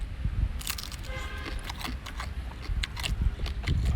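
Crunchy bites and chewing on crab from a chili seafood boil come in several sharp, close cracks in quick succession.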